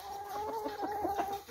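Roosters kept in cages at a gamecock pen cluck and call continuously at close range, a steady sustained crowing tone with repeated throaty pulses layered over it.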